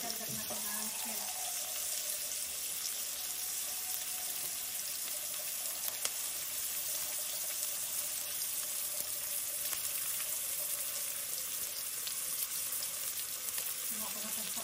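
Shrimp frying in a pan, a steady, close, hissing sizzle that runs evenly throughout with faint stirring clinks, without talk.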